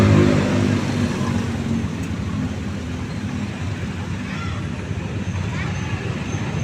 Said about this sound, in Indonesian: macet ya kieu teh tapi rame loba nu jalan